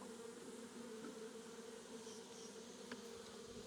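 A single honeybee buzzes faintly near a top bar nuc being moved into a Langstroth box, a thin steady drone under quiet outdoor background.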